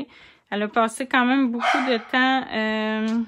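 A hyperactive pet dog barks and yips in quick bursts near the microphone, mixed in with someone talking in French indoors.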